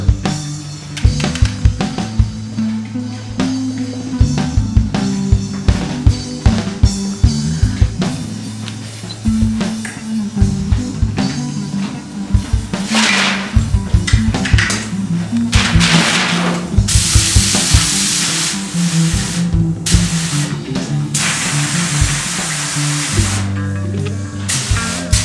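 Hissing bursts of pink spray paint on a car, loudest in long stretches near the end, over steady background music.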